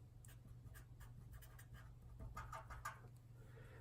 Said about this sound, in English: So if we draw a little graph in here